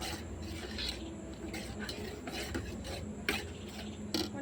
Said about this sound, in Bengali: সুজিটা তেলে ভালো করে ভেজে নেব